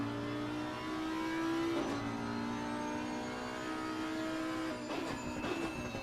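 Onboard sound of an Audi Sport race car at Suzuka, a steady high engine drone holding at speed with two short gear-shift or downshift breaks, no voices.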